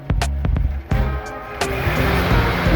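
A 1964 Mercury Comet engine revs hard under the throttle: loud, close, rough roaring bursts that rise and cut off in quick blips, then swell into a sustained high rev.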